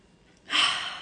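A single deep breath drawn in through the mouth, a soft airy inhale that swells and then slowly fades, close and quiet with nothing else around it.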